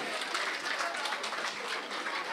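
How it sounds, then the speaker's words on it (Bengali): Audience at a cooking challenge event in the West Midlands applauds, a dense, even wash of many hands clapping at moderate distance, steady from start to finish. "প্লিজ আপনারা দু একটা হাততালি"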